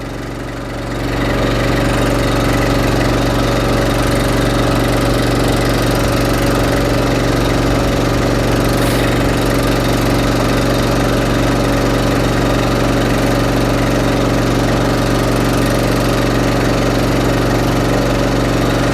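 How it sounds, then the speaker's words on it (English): A QD3000 batching system's engine runs at a steady idle throughout as water flows in through an open 3-inch passageway, a loud, continuous mechanical drone with no talking. "That's going to start our engine."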